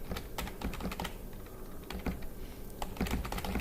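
Keys clatter on a computer keyboard used to control a block-stacking game shown on a VGA display, with quick irregular close taps in short bursts and brief gaps, no voices.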